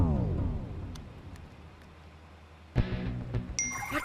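A mobile phone message notification gives a bright electronic ding near the end of a comedy film scene, following a muffled clatter, with a low tonal sweep at the start.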